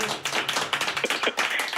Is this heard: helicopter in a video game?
no